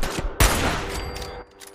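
Gunfire in the video game Fallout 4, a sharp, loud shot followed by a rattling burst and fading reverberation, all within under two seconds.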